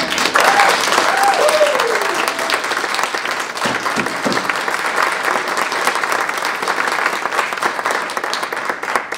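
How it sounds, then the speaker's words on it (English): A large audience gives loud, sustained applause for teachers at a regional poetry recitation final, dense clapping filling the hall, with a brief voice heard over it early on. "I'd like you to give them a huge round of applause"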